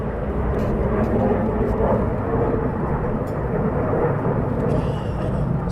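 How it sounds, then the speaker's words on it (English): An F-15 and an F-35 fighter jet fly over RAF Lakenheath, a loud, continuous rumbling jet roar with no break, close and powerful. "So one is an F-15 and one is an F-35."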